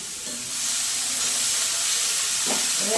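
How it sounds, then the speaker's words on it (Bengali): A cauliflower filling seasoned with salt, turmeric and cumin powder sizzles steadily in a hot pan, a continuous close frying hiss with a couple of soft stirring scrapes near the end. "এবার এটা ভালো করে কষবো"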